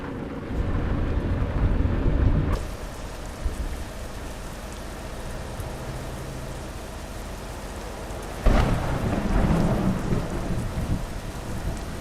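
Steady heavy rain with rolling thunder in Euro Truck Simulator 2, a dense continuous downpour hiss that shifts abruptly partway through, then a sharp louder thunder crack near the end, with no voices.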